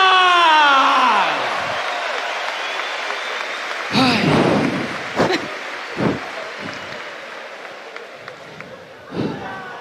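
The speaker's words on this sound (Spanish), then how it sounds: "El aplauso para AIRBAG." A crowd at a boxing event in Argentina applauds and cheers loudly, a dense roar that fades slowly, with a few sharp slams and shouts breaking through near the end.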